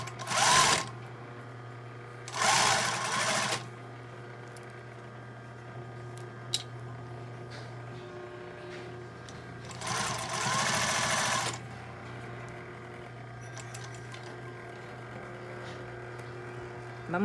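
A home sewing machine stitches a seam on a shirt-style blouse in three short whirring runs, the middle and last lasting longer, with quiet pauses and a steady low hum in between.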